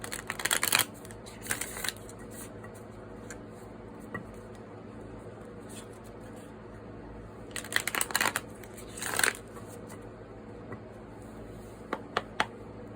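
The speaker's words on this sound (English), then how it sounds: "shuffle the deck" A tarot card deck is shuffled in a few separate bursts of riffling, close and crisp, with quiet pauses and faint ticks between.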